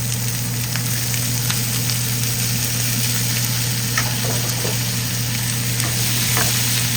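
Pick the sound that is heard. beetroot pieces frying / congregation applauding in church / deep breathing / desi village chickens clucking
beetroot pieces frying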